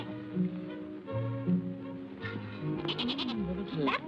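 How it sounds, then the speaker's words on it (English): Goat bleating indoors in a 1937 film scene, several wavering bleats in quick succession near the end, close and clear over a soft background tone. "Burley's a very warm goat, isn't she?"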